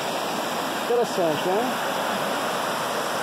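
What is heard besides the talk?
river rapids at Cachoeira do Jequitibá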